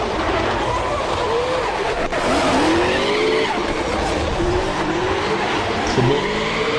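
A race car launching at a Calmont round, engine revving under load with a sustained rising whine and tire squeal, loud and steady, while people talk in French.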